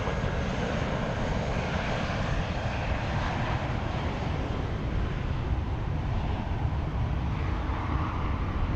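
Boeing 777 jet departing San Francisco International Airport, a steady loud engine roar with wind rumble, heard without talk throughout.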